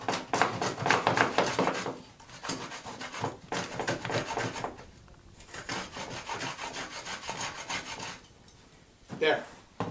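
A hand router plane shaving out a dado in wood, giving repeated raspy scraping strokes in bursts with brief pauses, close and moderately loud.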